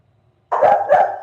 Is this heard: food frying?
no